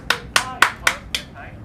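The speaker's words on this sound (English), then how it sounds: "Everybody clap." Five sharp claps at a nighttime street protest in Los Angeles, evenly spaced and close, fading slightly at the end, with no talking.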